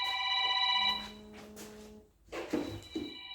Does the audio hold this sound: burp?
no